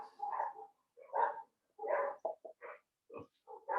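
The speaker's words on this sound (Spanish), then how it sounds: "se escucha mucho concierto de perro" Dogs bark outside in a series of short, muffled barks and yelps at irregular intervals, heard faintly from a distance through a window.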